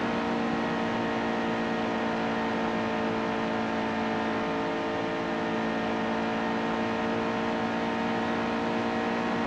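Race truck engines in NASCAR Heat 2, a steady, loud droning roar held at high revs throughout, with no breaks or shifts in pitch.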